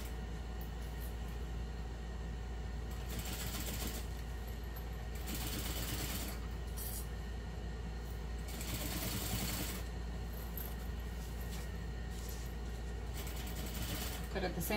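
Sewing machine stitching a bowler handbag, its steady mechanical whir running continuously in bursts of faster stitching, close and moderately loud under a quiet room background.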